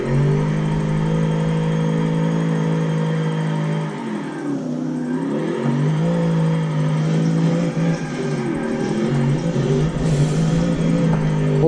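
A 1996 Holden Commodore SSR with a V8, built for drifting, drones loudly and steadily through a lap, its engine pitch dipping and climbing as revs fall and rise, with no talking over it.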